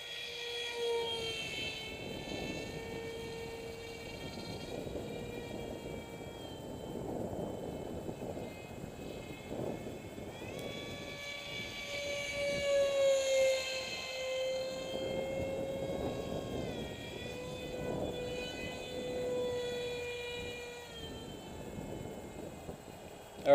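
RCPowers F18v2 model jet with an electric motor spinning a 7x4 prop, giving a steady high-pitched whine with strong harmonics that swells and eases as the throttle changes, close and continuous, with wind noise and no speech.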